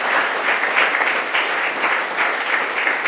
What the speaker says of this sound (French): avec vos applaudissements.